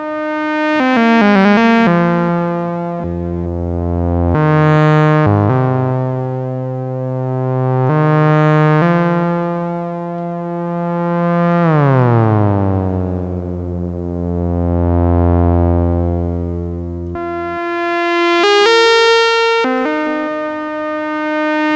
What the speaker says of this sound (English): I've got a delay and a reverb, because it's kind of hard to beat the classics on an analog synth